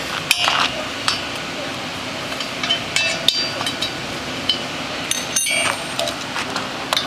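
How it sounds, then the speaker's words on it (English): Mounting hardware being loosened on a post mount set on a flat surface, heard as scattered sharp metallic clinks and taps over a steady background hiss. "need to loosen our mounting hardware to give us a little bit of room to allow this post to tip"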